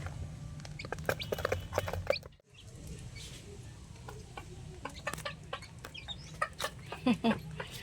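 Native chicks and hens on a farm cluck and peep in short, scattered bursts, fairly close, over a low steady background hum, with a brief dip in sound partway through.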